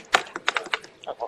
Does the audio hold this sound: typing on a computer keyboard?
yes